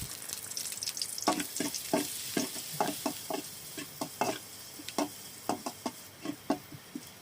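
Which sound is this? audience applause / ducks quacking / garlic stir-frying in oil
garlic stir-frying in oil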